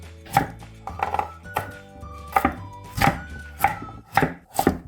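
A kitchen knife chops through ponytail radish for kimchi, striking the cutting board in about eight crisp, uneven thuds, each with a short ringing tail.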